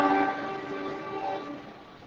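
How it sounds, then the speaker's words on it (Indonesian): A KRL commuter train passes close by at a residential housing site, a steady loud rumble with ringing tonal bands that slowly fades over two seconds, with no talking. "barusan kereta KRL lewat kembali ya"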